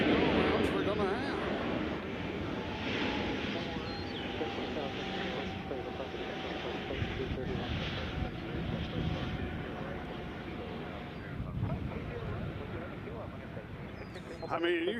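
Airliner approaching the single runway at Nashville International Airport, a steady broad engine roar with wind buffeting the microphone, sustained and fairly loud throughout while people talk over it.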